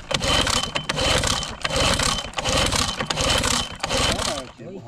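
Outboard boat motor, just back from servicing, starting and running loudly with a steady chugging drone in pulsing bursts, while people talk over it on a river fishing trip.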